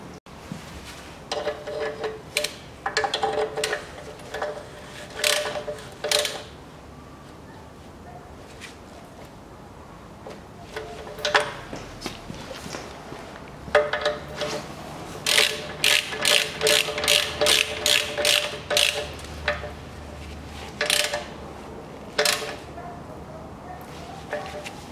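A ratchet wrench tightening a bolt on a 2010 Chery Amulet A15 1.5, with bursts of sharp close pawl clicks in short groups and a long fast run of clicks midway, separated by pauses.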